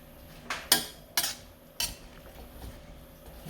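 A metal spoon clanks against a pot while stirring creamy squash and string beans (sitaw), three or four sharp close scrapes and knocks with a faint kitchen hum between.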